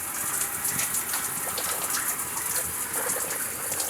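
Water runs from the tap of an outdoor gas hot water shower in a steady, even gushing spray that continues throughout, close and fairly loud with no speech.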